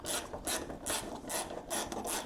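Ratchet wrench driving a screw fixed directly into the bumper bar of a 2011 Range Rover L322, giving repeated bursts of close mechanical clicking in a steady back-and-forth rhythm with no talk.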